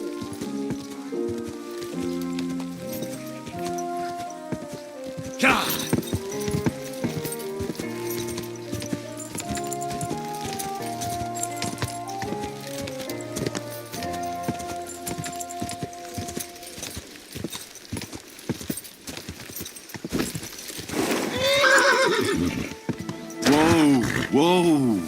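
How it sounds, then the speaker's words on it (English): A horse in the medieval video game Kingdom Come: Deliverance II, with clopping hooves and a whinny over a game music score, plus a rider's shouts and loud neighs near the end; voices speak at points. "Easy, good horse."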